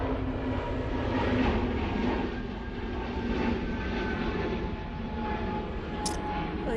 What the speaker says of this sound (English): this EasyJet A321 Neo is taken off